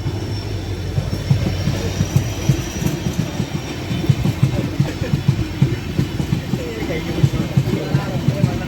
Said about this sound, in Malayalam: ഇത് ദീവ ജംഗ്ഷനിൽ നിന്ന് സാവന്ത്വാടി റോഡ് വരെ പോകുന്ന സിന്ധുദുർഗ് എക്സ്പ്രസ് ആണ്. WDP 4D Kalyan ഷെഡിലെ loco, diesel loco ആണ്.